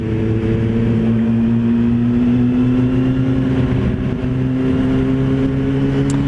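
An old motorbike engine hums steadily on a ride through North Yorkshire, a loud, close, even drone holding one pitch that creeps slowly higher, with rushing wind over it throughout.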